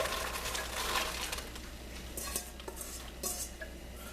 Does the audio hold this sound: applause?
no